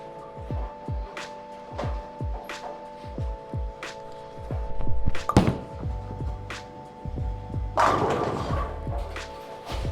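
A two-handed bowling ball throw down an alley lane, with repeated low thuds and rumble, then a loud broadband crash of pins near the end, in a reverberant bowling center.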